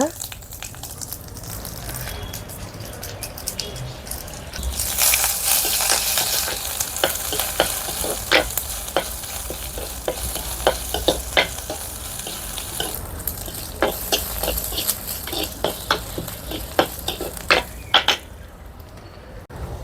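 Onions and tempering spices frying in oil over a wood-fired stove, a steady sizzle with sharp louder bursts as they are added, punctuated by repeated scraping and stirring clicks, with faint talk at times.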